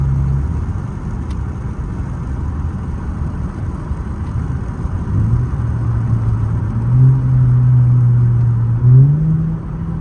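Car engine on a road in Texas, rumbling steadily and then rising in pitch as the pedal is floored, the revving climbing in a couple of surges toward the end, no talk.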